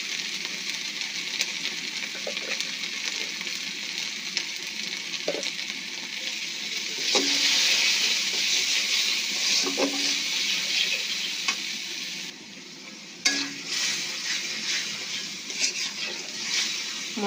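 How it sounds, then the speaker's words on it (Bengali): Turmeric, salt and spices fry and are stirred in a pan for maskalai dal bori, a steady close sizzle broken by soft scrapes and taps of the spoon, with no talking. "মশলাটা ভালোভাবে কষা নিব।"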